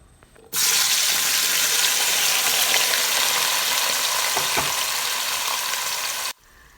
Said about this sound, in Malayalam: വെളിച്ചെണ്ണയിലേക്ക് തന്നെ പുഴുങ്ങിയ ബീഫ് ഇട്ട് കൊടുക്കാം